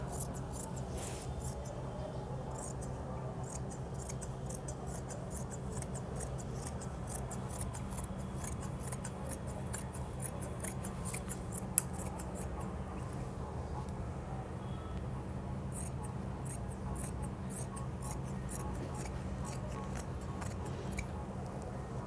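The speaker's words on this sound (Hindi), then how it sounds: "इस तरह से जो है हम काट देंगे कपड़े को, कटिंग कर देंगे इसकी।" Scissors cut cloth for a suit in quick, crisp snips repeated steadily through the whole stretch, close but fairly quiet, with no talk.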